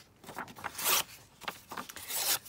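Sheet music paper being torn by hand into small pieces, several quick close ripping sounds in short bursts with small pauses between them.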